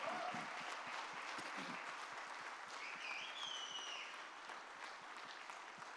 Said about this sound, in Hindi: Can we all give a standing ovation to sir?